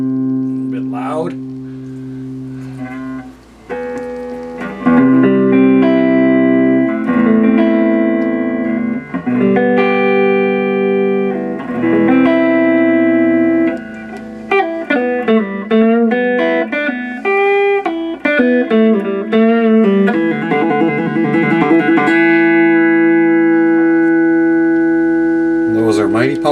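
Clean electric Stratocaster guitar through a blackface amp with a touch of reverb, playing sustained chords and melodic runs, steady and fairly loud throughout.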